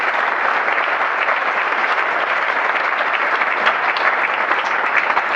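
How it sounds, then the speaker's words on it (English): Bike ride participants gathered the night before the 2015 Ride Across Wisconsin clap for themselves, a loud, dense, unbroken burst of applause from a large crowd that stays even for several seconds with no talking over it. "give yourselves a round of applause"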